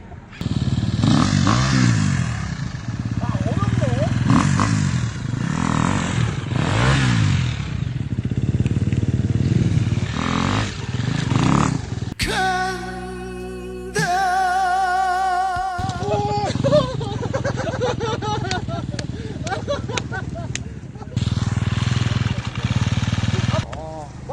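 An off-road motorcycle on a mountain trail over logs, its engine revving and sputtering with crackles and clatter, rising and falling in pitch, mostly close, under excited talking from the riders.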